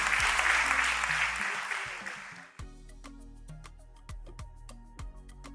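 Audience applause at the inauguration of the Merck Foundation Africa Asia Luminary, steady, dense clapping for about two and a half seconds that fades out, leaving a few sharp isolated claps and knocks.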